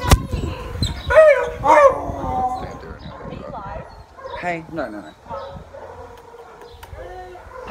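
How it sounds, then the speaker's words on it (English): Dogs at a lost dog home bark, yip and whimper in an echoing kennel, with sharp barks up front and high whines trailing off, while a person talks over them. "We're here at the lost dog home."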